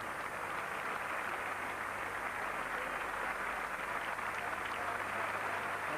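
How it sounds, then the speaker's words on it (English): A cricket crowd at a 1981 England versus Australia Test match applauds as England are bowled out. The clapping is faint and distant, a steady even patter that carries on without pause. "And a lot of applause is centred around the batting of the man nearest us, John Emburey, not out 37."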